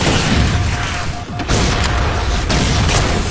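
Loud grenade blasts go off in a Halo 4 firefight, a dense booming roar filling the clip with a brief dip before another heavy burst, close and without talk.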